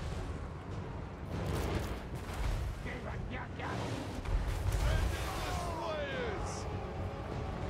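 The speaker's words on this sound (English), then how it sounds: "Here come the mortars." Mortar barrages pound a siege battlefield in Total War: Warhammer 3, with repeated dull booms and rumbling impacts layered over a dense roar of battle, voices speaking throughout.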